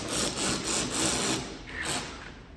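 A power tool buzzes in short pulsing bursts, driving splash guard fasteners into a 2024 Land Cruiser 250, close and alone with no talk.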